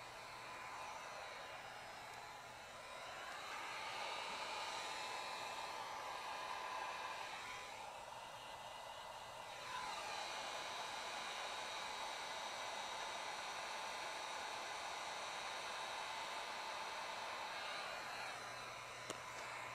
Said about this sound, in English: So just wanted to heat that up to roll that top edge in there.